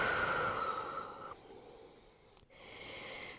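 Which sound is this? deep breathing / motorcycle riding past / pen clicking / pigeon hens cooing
deep breathing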